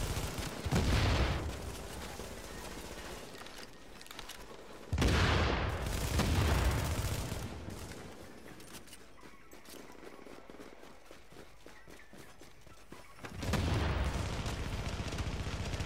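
Muffled explosions and scattered gunfire in The Division video game, with several deep booms swelling over a rumbling, fairly faint battle background.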